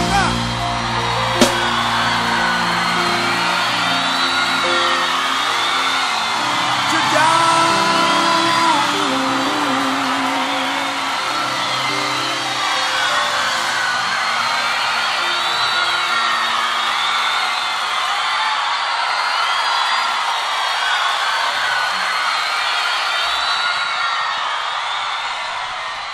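Church congregation shouting and cheering together, a dense, sustained crowd roar with scattered whoops, mixed with music and a voice, continuing loudly throughout.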